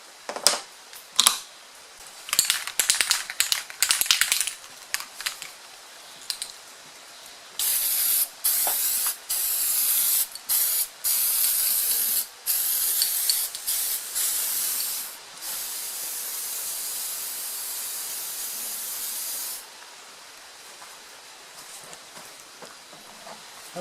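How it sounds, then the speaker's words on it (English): Aerosol paint stripper sprayed onto an engine valve cover in many short hissing bursts, then in several long steady blasts, close and loud with no talking. "I was sure to spray a lot on this lettering where the pattern is"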